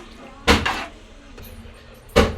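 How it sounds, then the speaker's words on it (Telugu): A lid is set onto a pot of simmering chicken curry, making two sharp, close knocks about two seconds apart over a quiet background. "కలుపుకొని మూత అయితే పెట్టుకుందామండి"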